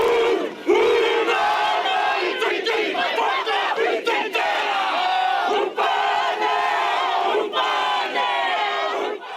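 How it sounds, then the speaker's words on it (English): Loud, passionate Māori haka chanted by a large crowd of protesters greeting New Zealand's Prime Minister, rhythmic shouted voices in unison with sharp accented cries, close and sustained throughout. "greeted with a passionate haka"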